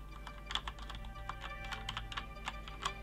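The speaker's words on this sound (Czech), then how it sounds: "Nebudu do toho mlátit, abyste věděli, jak zní takovýhle sherry trail mikrospínač." A 1STPLAYER MK7 mechanical keyboard with Cherry switches typed on gently, a steady run of soft, close key clicks and clacks with no talking.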